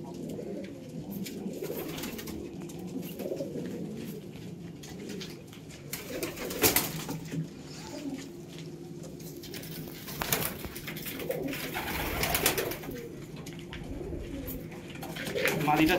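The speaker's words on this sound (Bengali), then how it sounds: "পায়রার চোখ দেখুন" Breeding pigeons at a home loft keep up a low, rolling coo across the whole stretch, with scattered louder rustles and bursts of wing movement, while a person talks intermittently over the birds.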